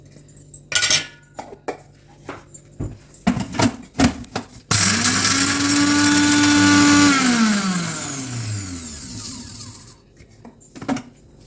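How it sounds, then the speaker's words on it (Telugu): Mixer grinder coarsely grinding ginger-garlic paste, cumin and pepper: clinks and clatters of the jar and utensils, then a loud whirring burst of several seconds that winds down, followed by more handling knocks. "అల్లం వెల్లుల్లి పేస్ట్ జీలకర్ర మిరియాలు ముందుగా ఇవి బరకగా పట్టుకోవాలి"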